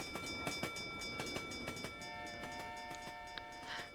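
A train in the Roblox video game rolls along with steady rhythmic clicks and sustained tonal whines, faint and continuous, a brief higher tone rising near the end.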